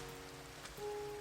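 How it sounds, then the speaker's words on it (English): Steady rain falling in the Minecraft game world, a soft continuous patter at low level with no voices. "it's starting to rain now"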